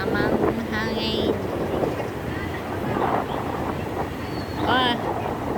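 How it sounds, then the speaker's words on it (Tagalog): Wind buffets the microphone in a constant low roar outdoors at SM Baguio City, with people talking over it and some high whistling tones drifting in. "Mahangin siya, oh."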